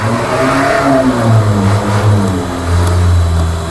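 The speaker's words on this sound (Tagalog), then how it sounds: "may nagre-revolution na sasakyan" A passing car's engine revs loudly and steadily nearby, its pitch rising and falling in smooth swells over a few seconds, with no speech.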